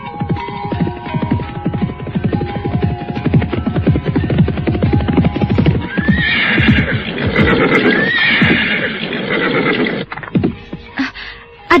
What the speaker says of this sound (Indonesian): Suasana di padepokan itu pecah oleh datangnya seekor kuda yang berderap.